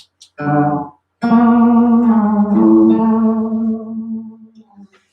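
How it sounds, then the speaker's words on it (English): Telray organ tone effect with reverb played as sustained electric organ-like chords, a short stab then a longer held swelling tone with a bright pitched overtone, ringing out and decaying with reverb tail. "this is that TR, that Telray organ tone thing"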